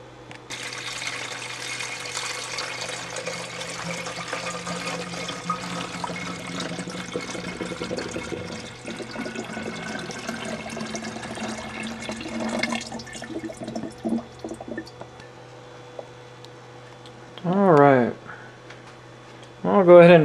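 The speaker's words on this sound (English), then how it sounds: "And we're going to go ahead and fill it with water." Water is poured into a 130-volt hydrogen electrolysis cell holding potassium hydroxide electrolyte, a steady rushing fill lasting several seconds before it tapers into softer trickles and a few brief louder sloshes near the end.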